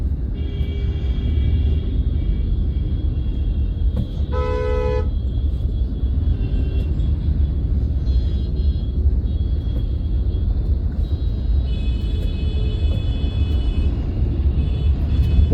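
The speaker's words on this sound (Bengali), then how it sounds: "বন্ধুরা দেখো এই জাম শুরু হয়ে গেছে" Car crawling through a traffic jam on the road from Dankuni to Uluberia, with a steady low engine and road rumble throughout and several short horn toots from nearby vehicles, one loud honk around the middle.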